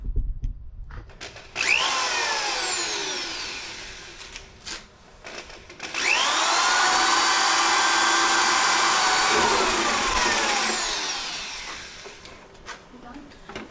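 A handheld power drill bores into a 1970 Monte Carlo in two long, loud whining runs with sweeping pitch changes, broken by short pauses and handling noises.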